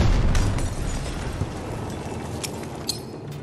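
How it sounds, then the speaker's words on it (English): Explosives detonate in the shooter game Battlefield 2042: a loud, heavy blast opens with deep rumble, then rolling noisy debris and echoing roar slowly tail off, with a few sharp cracks poking through. "Setting explosives!"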